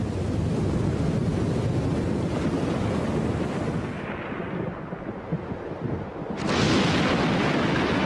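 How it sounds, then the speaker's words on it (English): Storm-tossed ocean waves roar and crash continuously with heavy wind buffeting, easing briefly before another loud surge breaks near the end. "One moment, these creatures are being scorched by sun and wind, and the next, they're tumbling in storm-tossed waves."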